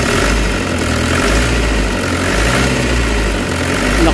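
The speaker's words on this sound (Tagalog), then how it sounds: "Yung problema is yung knocking sa kanyang cam loop." A Toyota HiAce Commuter engine with a valve train knocking fault runs at idle, a loud, steady close-up drone with a dense, continuous mechanical rattle throughout.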